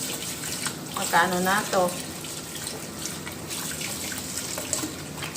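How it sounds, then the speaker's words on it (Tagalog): Vegetables are washed for pakbet under running tap water, which makes a steady splashing hiss throughout, close to the mic, as a person talks over it. "Hugasan natin yung mga gulay ng malinis"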